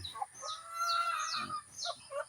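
Chickens clucking in a yard at early morning, some of the hens penned, beside an outdoor cooking area; several close, varied clucks and squawks come in short bursts with brief pauses, no talking.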